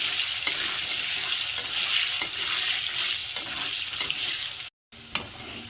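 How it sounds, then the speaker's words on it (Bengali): Potatoes frying in oil with salt and turmeric, a close steady sizzle with stirring scrapes, briefly cutting out near the end before resuming. "এবার আমি আলুটাকে লাল লাল করে ভেজে নেব।"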